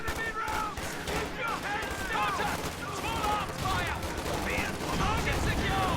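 Rifle fire and grenade blasts in a real-time strategy war game, with dense, continuous gunfire and crackling battle effects filling the whole stretch while a commentator talks over it.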